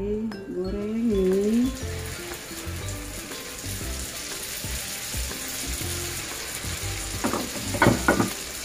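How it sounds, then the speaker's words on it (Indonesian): Banana fritters wrapped in wonton skins frying in oil, a soft continuous sizzle close by, with light clinks of utensils against the pan near the end and a brief voice near the start. "Ini langsung digoreng ya."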